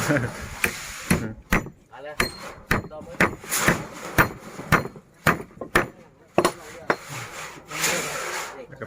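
Hammer blows drive nails into wood while a hut is built, landing as a series of sharp, fairly close strikes at an uneven pace, with someone talking between them.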